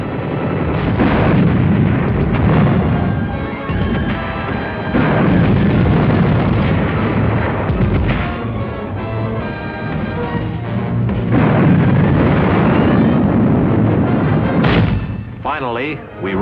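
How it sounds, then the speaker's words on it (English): Artillery and mortar fire in wartime Manila, a dense, continuous rumble of booms and blasts with loud, sustained bursts throughout under a narrating voice. "the more we saw of the effectiveness of our artillery and mortar fire in softening up the enemy positions"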